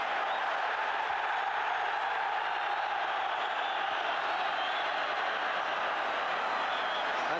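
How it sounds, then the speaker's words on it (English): A football stadium crowd at Republic of Ireland versus Spain in 1989 keeps up a dense, steady roar of cheering and noise, distant and unbroken throughout. "The crowd really relishing this now."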